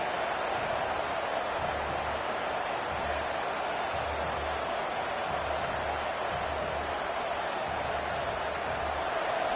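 A steady wall of video game football stadium crowd noise roars throughout, with faint low thumps pulsing underneath.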